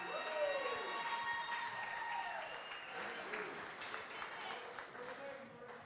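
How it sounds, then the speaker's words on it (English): Applause for the bride and groom fills a wedding reception room, a steady wash of many hands clapping at moderate distance alongside cheering and crowd noise. "how about a big round of applause for Melissa and Mitch?"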